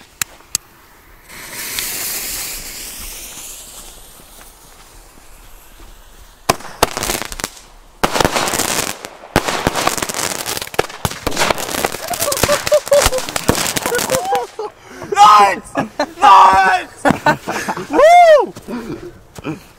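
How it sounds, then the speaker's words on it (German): An Xplode fireworks battery with 52 grams of net explosive, lit from both sides, hisses then fires a rapid series of loud cracks and bangs with whistling tones near the end, with voices around it. "So, die Rap wird jetzt beidseitig gezündet."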